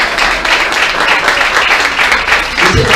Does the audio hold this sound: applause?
yes